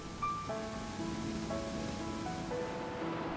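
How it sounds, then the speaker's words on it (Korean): Broad, steady rushing of water from a low, very wide waterfall on the Hantan River, falling over basalt, a constant hiss heard up close with a soft musical tone layered over it and no voices. "높이는 3m로 낮지만 폭은 80여 미터로 우리나라에서 가장 폭이 넓은 폭포입니다."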